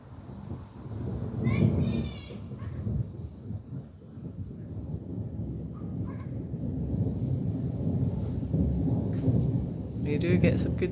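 Rain falls steadily as thunder rolls and rumbles through a storm, with deep low booms swelling and fading. A few faint bird calls rise over the constant downpour.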